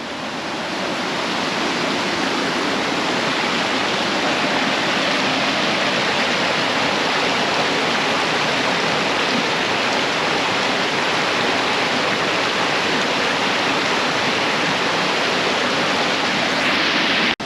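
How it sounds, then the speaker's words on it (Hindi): A waterfall near an old, badly deteriorated bridge in the monsoon-season hills near Nainital roars with a broad, constant rush of falling water, loud and unbroken throughout with no talk. "तो यहाँ से भी एक वो झरना टाइप का दिख रहा है"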